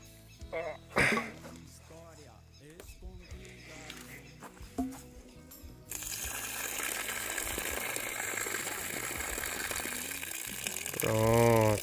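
Water brought from a distant source is poured out of a container on a rural smallholding, a steady gushing splash running for several seconds after a stretch of Portuguese talk.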